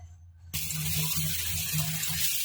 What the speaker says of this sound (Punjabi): ਦੋ ਤਿੰਨ ਵਾਰੀ ਸਾਫ ਪਾਣੀ 'ਚ ਧੋਵਾਂਗੇ ਮੇਥੀ ਨੂੰ